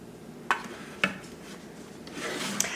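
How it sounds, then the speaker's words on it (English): Soft rubbing and scraping in a greased pan as sauce is spread around the bottom, with a couple of sharp taps and a rising smear near the end, close and fairly quiet. "taking a little bit of this sauce and just going to put it in the bottom and kind of rub it around"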